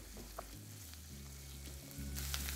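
Chopped onions fry in hot oil in a pan, a soft, steady sizzle and crackle heard close but quietly for a couple of seconds, with no voices.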